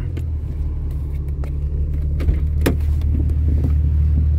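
Interior rumble of a 1996 Jeep Cherokee XJ 4x4 driving in four-wheel drive, with a steady low drone and occasional knocks and bumps from rough ground.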